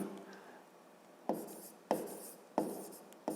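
A pen writing on paper during a fifth-grade maths exercise: quiet scratching broken by three sharp strokes in a steady rhythm, close and faint, with no talk.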